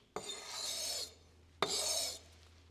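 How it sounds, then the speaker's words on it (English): A leather bag punch sharpened on 220 grit sandpaper: two separate close, quiet rasping swipes, each about half a second to a second long, with silence in between. "Just a few swipes will get rid of the scratches from that 120 sandpaper"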